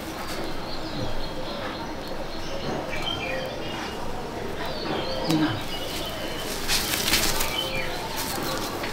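Andhra pigeons in a breeding loft in Icchapur, including a crossbred hen: soft cooing and rustling wing flaps over a constant roomy background, with a few sharper flutters near the end.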